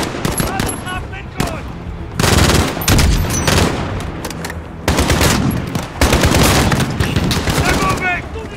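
Sustained bursts of loud, rapid automatic machine gun fire in the Call of Duty Modern Warfare (2019) video game, several long volleys with brief gaps, close and dominant, with shouted voices mixed in.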